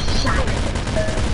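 Rapid gunfire in the arena shooter OpenArena, a dense loud burst of overlapping shots lasting just over a second, with a voice briefly audible over it.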